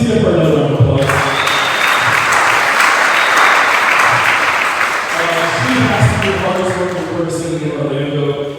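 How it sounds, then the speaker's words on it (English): An audience at a scholastic and scholarship awards event gives sustained, loud applause for a county commissioner, dense clapping filling the room for several seconds before a voice carries on over it. "Please give her another round of applause"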